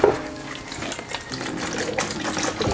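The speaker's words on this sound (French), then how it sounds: "n'oubliez pas non plus de rincer votre entonnoir, votre filtre" Tap water runs steadily while a resin 3D printer's funnel and filter are rinsed under it, a continuous close splashing flow with no talking.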